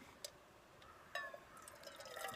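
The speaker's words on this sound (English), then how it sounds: "At this point, I can pour." Liquid poured into three cups, a soft trickling splash that starts after a faint tap and swells toward the end, quiet and close.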